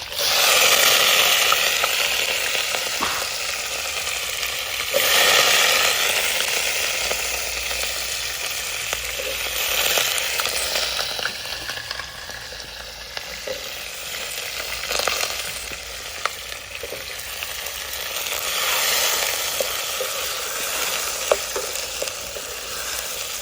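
Peas tossed straight into a pan after garlic, frying with a steady broad sizzle throughout and periodic stirring scrapes, loud and close, with no talking.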